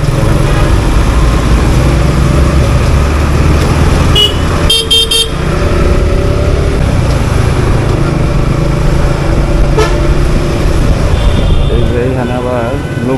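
Traffic on a jammed road rumbles loudly and steadily, with a burst of sharp horn toots near the middle and a longer honk toward the end, while buses stand on both sides taking on passengers; voices talk nearby throughout.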